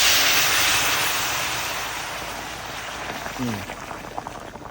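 Water poured into a pan for stewing radish with Chinese herbs, a steady broadband rushing pour that slowly fades over several seconds, with someone talking briefly near the end.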